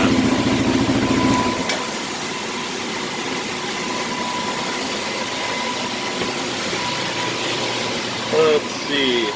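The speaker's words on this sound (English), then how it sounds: "Alright, you can see how lean that idle is." A stock 2020 Yamaha Raptor 700 ATV idles lean, a steady, fairly loud, close engine drone with a rough, uneven hum running throughout.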